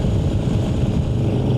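A 1988 Yamaha Ténéré motorcycle engine runs steadily on a remote Amazon road, a rough, throbbing low rumble that stays close and loud throughout with no pauses.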